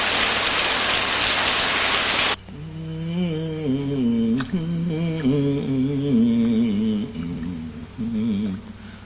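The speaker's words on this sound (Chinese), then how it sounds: "下雨啊" Heavy rain pours down in a loud, dense hiss for about two seconds, then cuts off abruptly, giving way to a sustained tonal sound that wavers in pitch for the rest of the clip.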